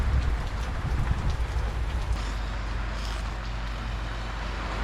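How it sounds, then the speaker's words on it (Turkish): Steady rain falls in Tehran, a dense, constant hiss of drops on surfaces close by, with a low rumbling undertone and no voices. "Hava baksana ya nasıl yağmur ya"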